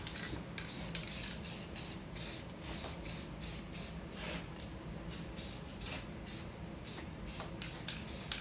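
Spray paint hisses onto Robotron and Sinistar arcade game parts in repeated short bursts, each about half a second, close and fairly soft, over a low steady background hum.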